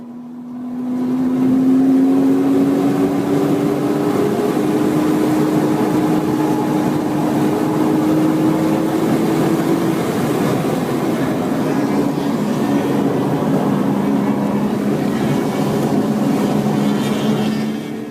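A race car engine holds a loud, sustained drone through a turn at Texas World Speedway, its pitch sliding slowly as the car slows and then builds speed again, with nothing talking over it.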